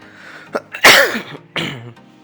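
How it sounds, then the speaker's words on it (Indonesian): A few sharp, explosive coughs in quick succession, close and fairly loud, with brief quiet gaps between bursts and no speech. "sorry, masih batuk, belum sembuh-sembuh nih."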